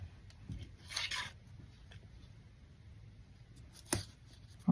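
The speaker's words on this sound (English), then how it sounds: "So you can do a little snip like that." Scissors snip old thrifted photo paper, a few crisp cuts near the start, then quiet handling and one sharp snip near the end, close and soft.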